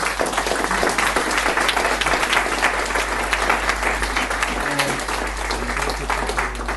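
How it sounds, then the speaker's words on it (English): Sustained, loud applause from a large conference crowd in Prague, dense clapping continuing steadily throughout without a break. "Please give one more round of applause."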